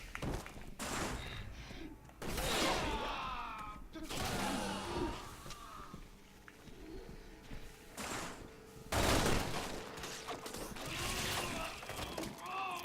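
Gunfire in the co-op video game Resident Evil 6: several sharp, loud bursts of shots spaced across the stretch, mixed with thuds and game noise, with a voice talking in between.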